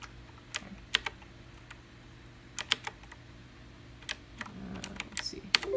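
Keys clack on a white Razer Blackwidow X Chroma mechanical keyboard in a few quick bursts with short pauses between, close and crisp against a quiet background.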